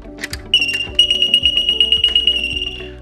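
A Pivot control panel alarm sounds once its alarm fuse is pulled, giving a sustained, loud, piercing electronic tone that pulses rhythmically after a few brief clicks.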